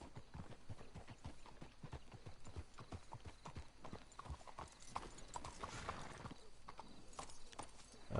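Horse hooves clip-clop steadily in Red Dead Redemption, several horses walking at an even rhythm, moderately close, with a brief whinny-like swell midway and faint background game ambience.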